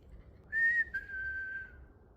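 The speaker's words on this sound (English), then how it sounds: "There is whistling." A single person whistles a short, clear tune of a few sustained notes, fairly close and alone against quiet background, in a mine.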